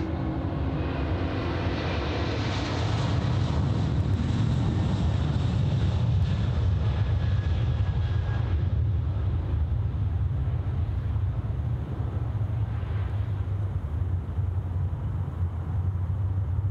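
An airliner takes off from runway 34 left at Sydney Airport in the evening: a loud, broad jet roar that swells and then slowly fades as it climbs away, with no talking.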